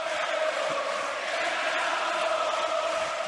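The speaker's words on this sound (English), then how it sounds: "And now the crowd gets into it." A basketball arena crowd at a 2011 AmeriCup semi-final between Argentina and Puerto Rico sends up a steady, loud roar that fills the whole clip without a break.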